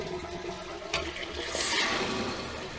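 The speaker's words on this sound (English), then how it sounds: "So let's flush just to make sure that the flush valve works" A home toilet flushing just after a DIY repair to its flush and fill valves, a loud continuous rush and swirl of water with a brief knock near the start, building to a peak midway then easing into steady running.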